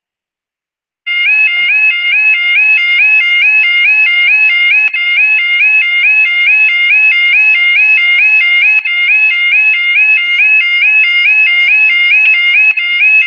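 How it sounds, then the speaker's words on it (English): A second alarm starts after about one second and runs steadily to the end, a loud electronic siren with a fast repeating warble, sounding alone with no voices. "So yeah, that's what this alarm sounds like."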